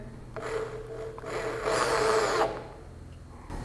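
A Bosch GSB 600 RE corded drill whirs as its chuck is tightened, a close motor whine that builds to a louder sustained run for about a second before easing off, with a brief restart at the end.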